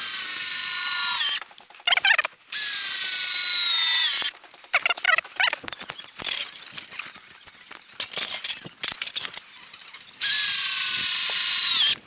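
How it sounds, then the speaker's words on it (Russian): A powerful cordless screwdriver drives 6x100 screws into a wall-frame board, whirring in several long bursts with ratcheting clicks and short pauses between them, close and loud. "Далее берем шуруповерт, мощный шуруповерт, и саморезы 6 на 100. И фиксируем данную доску."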